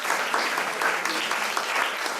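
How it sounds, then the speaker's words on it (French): Polite, fairly subdued applause from an audience at an improv comedy cabaret, a steady patter of many hands clapping throughout without a break. "du coup on va les applaudir timidement"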